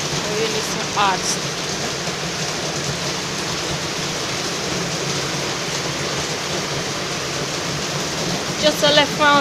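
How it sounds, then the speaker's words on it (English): Heavy rain falling in a steady, dense hiss with constant drumming, and faint voices briefly audible underneath. "Rain and more rain."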